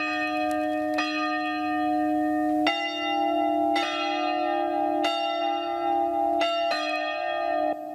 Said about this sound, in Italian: Rintoccano le campane della chiesetta del Carmine a Rai di San Polo di Piave